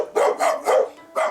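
Dogs behind courtyard homes bark in a quick run of four loud, close barks, with a short pause before the last one and no voices.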